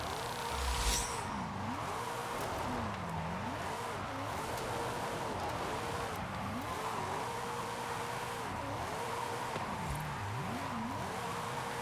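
Car engine racing in Forza Horizon 5, a game engine note climbing and dropping through repeated gear shifts, steady and prominent, with a brief sharp noise burst near the start.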